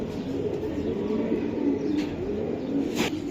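Racing pigeons at a club loft selling racers coo in a steady, soft, continuous murmur, several birds close by, with no talking.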